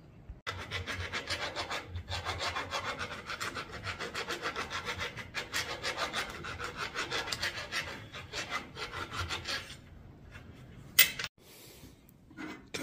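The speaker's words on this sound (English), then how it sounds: "We'll take our rat tail file, clean those burrs off so it spins real easy on the shaft for the windmill." A rat tail file deburring the inside of a metal pipe for a windmill shaft makes steady rhythmic rasping strokes, close and continuous for about ten seconds, then stops, with a sharp clack near the end.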